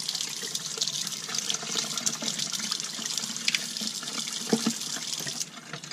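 Water running steadily from a faucet into a utility sink while a Graco Ultra cordless handheld airless paint sprayer is cleaned, close and continuous with a few splashing knocks near the end.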